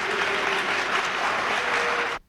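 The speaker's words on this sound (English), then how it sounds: "Applause, please." Audience applause at the 1984 Reagan–Mondale presidential debate: a dense, steady burst of clapping from a large hall crowd lasting about two seconds before cutting off abruptly.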